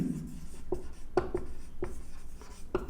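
Hand-writing a plane equation during a geometry lesson: several sharp pen or chalk taps and strokes in an irregular rhythm, close and fairly quiet, with no speech.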